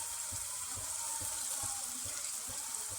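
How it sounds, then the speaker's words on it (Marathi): Onion-coconut paste hits hot oil in a prawn curry gravy, giving a faint, steady bubbling sizzle with soft rhythmic plops repeating about twice a second, no voices. "यात आता मी कांदा खोबऱ्याचं वाटण घालून घेते"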